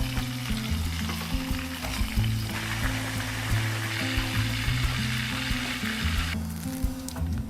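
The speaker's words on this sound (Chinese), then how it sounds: "最后别忘了把整个蟹盖放下去再炸一下。" A whole crab shell deep-frying in hot oil: a loud, continuous bubbling sizzle that lasts throughout, under steady background music, with no talking.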